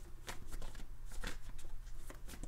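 Tarot cards shuffled by hand, close and crisp, a series of quick riffling snaps and slides repeating in uneven bursts, with no talk over them.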